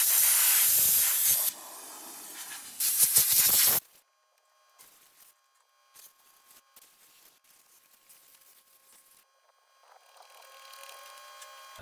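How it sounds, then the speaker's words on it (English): A strong hiss of spraying water washing a Porsche 914 engine bay runs for a few seconds, cuts off briefly, resumes, then stops, leaving faint dripping and quiet clinks. "I'm just going to spray down in here a little bit."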